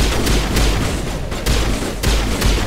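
Sniper rifle fire in the video game Mass Effect Legendary Edition, loud booming shots repeating about every half second to second over dense battle noise.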